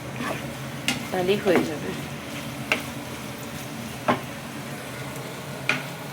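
Egg bhujia frying in a pan while being stirred, a steady sizzle broken by a few sharp spatula clicks against the pan, with a brief voice speaking over it.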